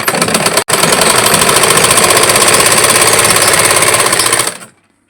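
An electric sewing machine runs fast and steadily while stitching two rows of stitches along the belt of a front-pleated blouse. It clatters loudly and continuously, stops briefly near the start, and then runs on before stopping.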